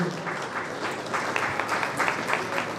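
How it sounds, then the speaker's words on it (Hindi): Applause in an audience hall at an Indian government education event during an MOU exchange ceremony; moderately distant clapping from a crowd, steady with scattered sharper claps. "श्री अविचल चतुर्वेदी जी IAS आपसे गुजारिश पुनः MOU एक्सचेंज के लिए तालियां इस समय बजती रहनी चाहिए।"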